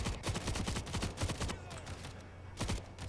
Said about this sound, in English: This time the LMG comes out.